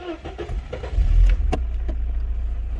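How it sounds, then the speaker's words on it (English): A Mercedes-Benz 230 CE engine cranks and catches, with a loud surge around the start, then settles into a steady, smooth idle heard close up with no talking. "lovely smooth engine"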